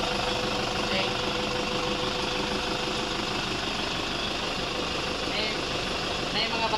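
Toyota Hilux 3.0 engine running with a weak battery, a steady mechanical drone with faint knocking, close and continuous, with voices heard over it.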